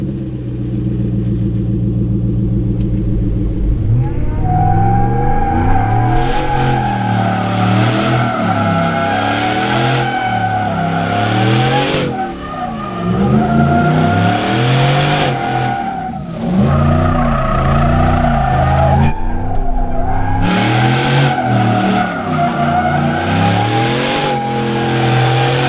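A 500 HP Hennessey Tahoe SUV weighing about 6,500 pounds spins donuts, its engine revving hard in sweeping rises and falls while the tires squeal and skid continuously, loud and close with no talking.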